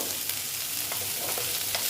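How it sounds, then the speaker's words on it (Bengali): Chopped onions frying in a pan for an egg curry: a continuous close sizzle with a few soft spatula taps across two seconds, no voices. "পেঁয়াজগুলো ভাজি ভাজা করে নিচ্ছি একটু ভালো মতো ভেজে নেব"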